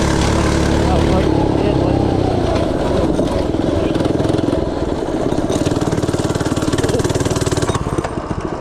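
FRP GMB-100 minibike engine idling steadily and loudly up close, a continuous rapid putter running throughout without pause.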